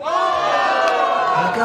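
Loud, steady roar of a crowd at a Brazilian rap battle, cheering and applauding in a continuous wash of voices with a few sharper claps near the end.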